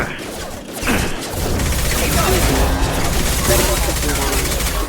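Sustained rapid gunfire and impacts from a shooter video game, Mass Effect 2, form a dense, loud barrage of bursts that continues almost without pause.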